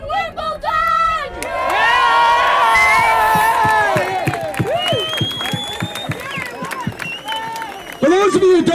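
A crowd at a Scotland Marches for Europe rally cheers and shouts loudly after Andy Murray wins Wimbledon, whoops and raised voices swelling over several seconds, with a spoken voice briefly at the start and again at the end.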